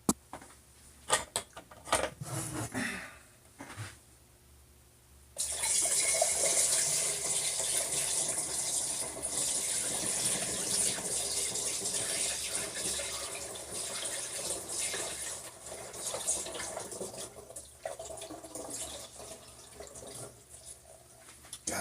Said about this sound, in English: So let's get to pouring.